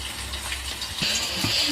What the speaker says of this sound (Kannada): ಈಗ ಇದಕ್ಕೆ ನೀರು ಹಾಕ್ಕೋಬೇಕು